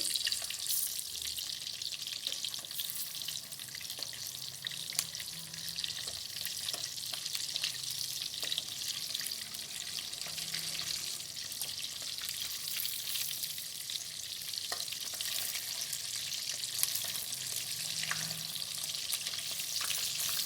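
Stuffed karela (bitter gourd) fried in a pan Punjabi style, producing a continuous, even sizzle of hot oil with faint stirring and scraping, close and steady, with no voices.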